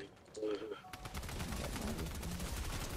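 Rapid Fortnite gunfire rattles almost continuously after a brief voice at the start, loud and close with overlapping bursts.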